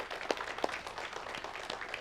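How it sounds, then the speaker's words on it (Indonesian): Scattered applause from a studio audience, faint and thin, with a few sharper individual claps standing out over two seconds. "Tepuk tangan buat kawan-kawan sekalian."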